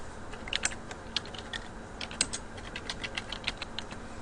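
Quick, light clicks of keys on a computer keyboard as a name is typed, with irregular bursts of taps close up at low volume and no talking.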